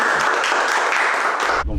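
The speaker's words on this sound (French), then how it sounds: "Bravo, vous pouvez l'applaudir, parce que c'est la première fois." An audience at a Pilates Reformer session claps and applauds for a first-time instructor, a dense, steady round of clapping that stops abruptly.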